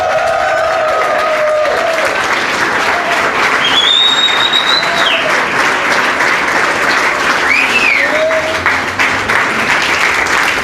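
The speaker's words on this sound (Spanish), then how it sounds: "Da un aplauso bien fuerte, un grito de guerra ahí bien poderoso" An audience at a church workshop claps loudly and steadily, a dense wash of applause with scattered cheers and whoops rising above it, lasting about ten seconds.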